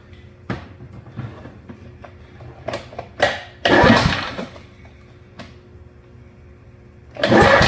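A 1970 Toro Whirlwind lawn mower, a barn find unused for about 30 years and suspected of dirt in the carburetor, is pull-started, giving repeated short rough bursts of engine noise that catch briefly and die between attempts.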